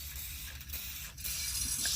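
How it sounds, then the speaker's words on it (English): Aerosol WD-40 sprayed onto an engine belt tensioner on an Infiniti FX35, a steady hissing spray with a couple of short breaks, close up and without talk. "So let's spray some WD-40 on it first."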